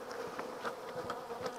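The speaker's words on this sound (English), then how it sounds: "Actually, there's some bees in there." Honeybees buzz at a hive entrance during an early spring inspection, a continuous close droning hum with small rises as individual bees pass, no voices.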